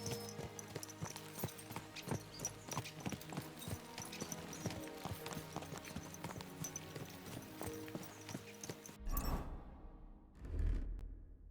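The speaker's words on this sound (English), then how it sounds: "Let's really spur these horses on, eh?" Horses in the medieval game Kingdom Come gallop with a dense, steady clip-clop of hooves under busy ambient noise and music, ending with a couple of louder whooshing thumps.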